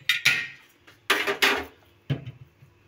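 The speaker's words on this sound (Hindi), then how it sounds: "जब तक कि हम कोफ्ते बनाएं हम चूल्हा ऑन कर लेते हैं।" Metallic clatter of a pot or pan and a gas stove being switched on in a home kitchen: a few sharp bangs and clinks spread over three seconds, close and fairly loud, with no talking.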